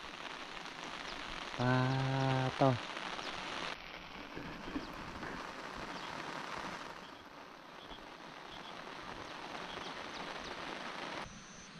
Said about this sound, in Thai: ฝนตกอีก